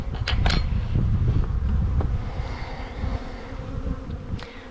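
Honey bees buzz around a frame being pressed into a hive box while a nuc is installed, a steady close swarm drone with a few handling knocks at the start.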